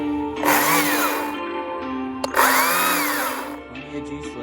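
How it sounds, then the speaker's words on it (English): A Stihl battery-powered chainsaw revs in two strong, close bursts, its electric motor whine rising and falling in pitch, with a short quieter gap between them and a lower hum afterward. "This little battery chainsaw right here."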